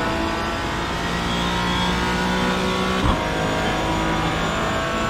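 A Porsche 718 Cayman GT4 racing in iRacing, its engine droning steadily at high revs with a loud, constant tone and a brief bump midway, no talking.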